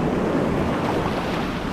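Ocean waves wash onto the beach at Cocoa Beach as sand fleas are caught in the retreating surf, a loud, steady roar of surf mixed with wind buffeting the microphone and no voices.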